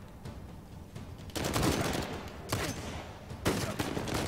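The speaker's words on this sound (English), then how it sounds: "Ah, we're getting shot from behind." Gunfire in the video game Uncharted 4, coming as bursts of rapid automatic shots in three loud volleys over a fainter background of game sound.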